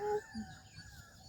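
A chicken clucks and calls nearby in short, warbling notes, fading quickly, during a Pongal ritual.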